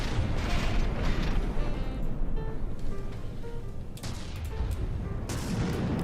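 Mortar fire in the naval battle game From the Depths: a dense rumbling barrage of booming launches and impacts over steady machinery noise, with short tonal beeps rising through the middle and a sharp crack near the end.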